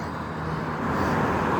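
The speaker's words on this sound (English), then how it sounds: "Garbage truck." A garbage truck passes in city traffic as a dense, broad roar that swells slightly as it goes by, mixed with general roadway noise.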